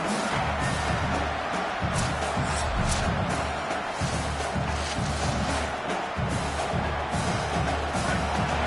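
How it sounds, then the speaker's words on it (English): A crowd roars steadily at a women's American football game between Spain and the USA, a dense, loud wash of cheering and whooping that holds for the whole stretch without a break. "The roar of the crowd trying to fuel this defense to keep them pinned in their own end."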